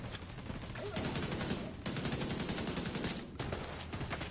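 Rapid bursts of gunfire from The Division 2, the shots coming thick and steady through the whole stretch with brief lulls, loud and close, with no talk over them.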